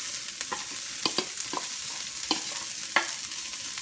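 Garlic, ginger and onion aromatics dropped back into hot seasoned oil in a wok for eggplant with garlic sauce, a steady sizzle broken by several sharp clinks and scrapes of a utensil stirring against the pan.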